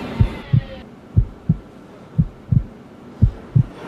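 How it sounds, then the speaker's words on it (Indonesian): A loud pounding heartbeat sound effect, seven strong low thumps in an even throbbing rhythm, close and heavy, with no talk over it. "Please, jangan deg-degan."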